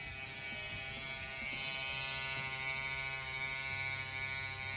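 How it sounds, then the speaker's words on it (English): An electric hair trimmer runs with a steady close buzz as it is pushed straight down a person's neck during a haircut for puffy hair, holding an even drone throughout with no talking. "you can put your trimmer right on their skin"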